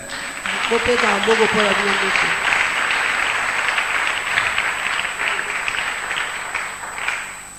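A church congregation bursts into loud, sustained applause that peaks early and slowly fades, with a voice briefly heard over the clapping near the start.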